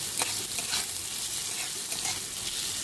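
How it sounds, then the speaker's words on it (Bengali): Potatoes sizzle and crackle steadily in hot mustard oil, with occasional stirring scrapes in the pan. "আলুটা আমি এটা ভালো করে ভেজে নেব"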